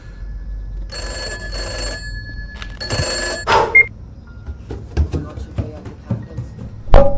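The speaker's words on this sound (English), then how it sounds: "Tell her to answer the phone." A telephone bell rings in short repeated bursts inside a room, with scattered knocks and movement noises, a few voices and a creaking door following the rings.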